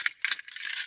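A set of two new-car keys for a Mazda3 2.0 e-SKYACTIV-G mild hybrid jangles close by in short bright metallic rattles, alone with no talk.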